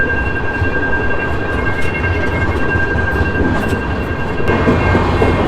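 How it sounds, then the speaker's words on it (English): A very long train carrying coal rolls steadily past a level crossing in Tasmania, giving a loud, continuous rumble with wheel clatter and a steady bell-like tone, heard from nearby while waiting. "a very long train"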